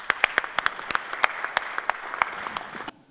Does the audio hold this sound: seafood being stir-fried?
no